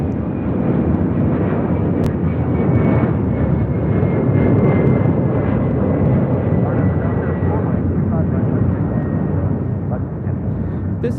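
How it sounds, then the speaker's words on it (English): A 31-year-old Airbus A300 jet roars steadily at full takeoff power on an LAX runway, a loud, continuous engine rumble that eases slightly near the end, with some voices faintly present. "7013 taking off to Guadalajara on an A300"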